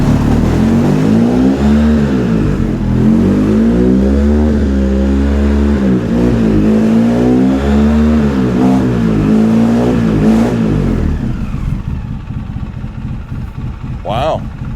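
Polaris Sportsman 700 ATV engine revving hard in four-wheel drive, a loud steady rising-and-falling drone that holds for about eleven seconds, then eases off into quieter running while people talk around it.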